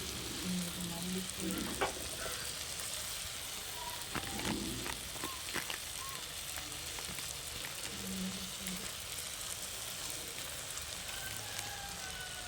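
Dried sardines (mathi) with turmeric, chili and coriander powders sizzle in a pan while being stirred, a continuous fine frying crackle with occasional scraping knocks of the spoon.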